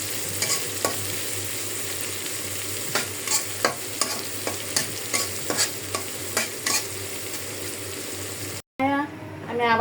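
Onion frying in a pan beside fish, with a steady broadband sizzle and repeated scraping stir strokes throughout, close and fairly loud, cut off abruptly near the end before a brief different sound.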